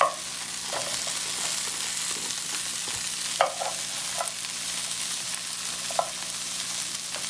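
Carrots fry in a pan for homemade roast beef hash, giving a steady close sizzle with a few soft stirring scrapes and small knocks scattered through it.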